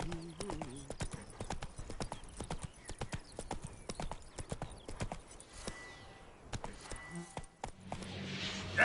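Roach the horse trots in The Witcher 3, a steady run of sharp clip-clop hoofbeats close by, with a brief whinny and some background game sound around it.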